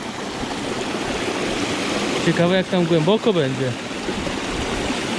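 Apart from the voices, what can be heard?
waterfall at a dam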